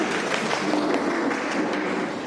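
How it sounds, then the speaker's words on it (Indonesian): Classroom applause for a student group, many hands clapping together in a steady, fairly loud patter that fills the room throughout. "tepuk tangan dulu untuk mereka"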